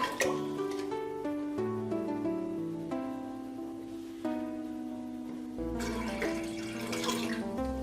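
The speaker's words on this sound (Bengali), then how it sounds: "পানি দিয়ে দিচ্ছি" Water runs and splashes into a pressure cooker at close range for steaming pudding, a steady pouring stream with a slight shift in tone near the end.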